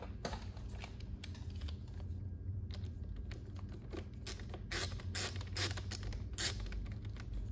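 A screw being run down and snugged during an audio system install on a 2014-or-later BMW R1200RT motorcycle, heard as close, dry creaks and quick irregular clicking against a faint steady background hum.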